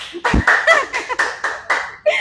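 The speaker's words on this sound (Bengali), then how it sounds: "হাততালি কোথায়?" A few people clap in quick rhythmic bursts for a lakh-taka prize winner on a shopping-outlet game show, the claps close and loud with a voice talking over them.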